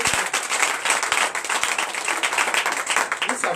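A church congregation applauds in acclamation to Jesus during a night service of deliverance and prophecy, a dense, steady wash of many hands clapping that fills the room with sharp broadband claps and a loud, even crowd texture.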